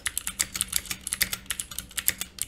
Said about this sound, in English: I think that the Leica 60 switches that come with the Wooting have an amazing sound straight out of the box.